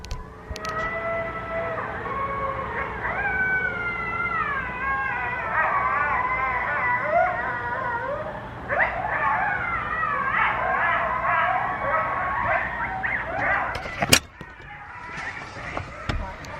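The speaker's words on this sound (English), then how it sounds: "I hear like a coyote or something, a dog's going nuts" Out in remote countryside, an animal that may be a dog or a coyote howls and yips in long, wavering, pitch-sliding cries that carry on for many seconds over steady background noise, with a sharp knock near the end.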